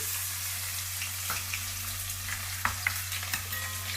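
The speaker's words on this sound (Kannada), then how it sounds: "ಎಣ್ಣೆ ಕಾದಿದೆ ಸಾಸಿವೆ ಹಾಕೊತೀನಿ ಜೀರಿಗೆ ಕರ್ಬೇವಿನ ಸೊಪ್ಪು ಮತ್ತು ಈರುಳ್ಳಿ" Mustard seeds, cumin, curry leaves and onion sizzle steadily in hot oil in a pan, a constant frying hiss with a few light pops and crackles near the end, no talking.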